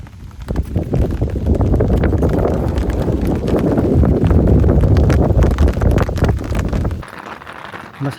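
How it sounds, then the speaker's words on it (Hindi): Strong wind gusts roar and buffet a solo camp during a summer windstorm near a jungle at night, a loud rushing blast that holds for several seconds before dropping off suddenly, with no one speaking. "एक एक टाइम में एक एक झोंका आ रहा है"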